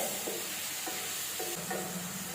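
About 200 grams of mushrooms are sautéed in a kadai pan, with a soft frying sizzle broken by several rhythmic scraping stirs of a spoon, heard up close.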